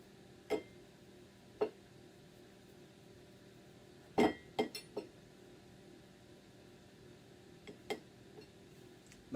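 A lid twisted and pulled off a container of chili powder: faint scattered ticks and light plastic clicks spread over a quiet background, with a small cluster of taps in the middle.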